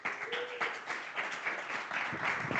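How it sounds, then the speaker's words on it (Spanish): Audience applause at a panel presentation on statistics, a steady dense wash of clapping that holds for the whole stretch, fairly loud and continuous with no voices over it. "Un aplauso."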